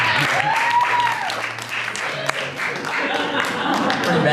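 A studio audience at a live science show claps, a scattered round of applause mixed with voices, cheers and tonal sounds throughout.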